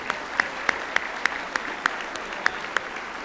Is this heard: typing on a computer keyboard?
no